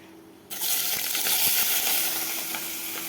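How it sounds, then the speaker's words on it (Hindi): Onions tipped into hot oil with roasted cumin for a sweet potato curry set off a sudden loud sizzle that holds strong and close for the rest of the moment. "अभी डाल देंगे सारे प्याज"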